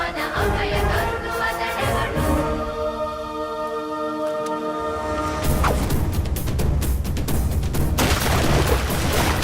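A gun fires with a heavy boom amid a dense, loud barrage of blasts and crashing impacts that roll on continuously and swell near the end, with no clear speech.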